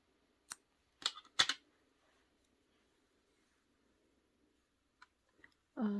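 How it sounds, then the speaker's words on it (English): Scissors cut yarn while a hat is being cast off a Sentro or Addi knitting machine: a few sharp, close snips in quick succession, then near silence with a couple of faint clicks. "Cut the yarn."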